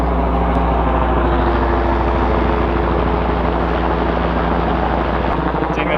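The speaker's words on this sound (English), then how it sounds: "We got ourselves a freaking helicopter" A helicopter's steady thudding rotor and engine drone, loud and close, continuous throughout with no pause.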